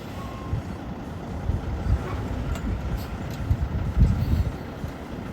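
A tractor-trailer truck backs up at an angle, its low diesel rumble steady and close with uneven thumps and swells, and no clear backup beeps standing out.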